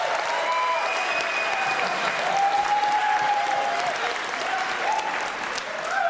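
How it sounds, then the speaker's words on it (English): An audience at a retirement gathering breaks into sustained, steady applause. The clapping is dense and even throughout, with a few faint cheers and voices mixed in. "A big round of applause for Peter Murphy."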